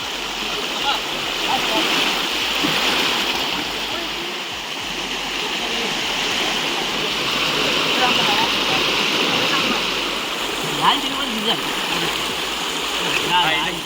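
River water rushing in a steady, loud, continuous flow during a crossing in the Konkan, filling the whole stretch with splashing texture, with voices faintly mixed in.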